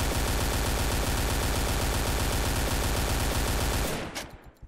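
An AK-47 rifle in the Point Blank shooter fires one long, unbroken full-auto burst, loud and close, with rapid evenly spaced shots for about four seconds before it cuts off into a short fading tail.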